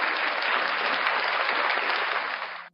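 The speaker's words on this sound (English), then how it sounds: "Let's give her a round of applause." A crowd applauds loudly and steadily, a dense wash of clapping that holds level and then cuts off abruptly at the end.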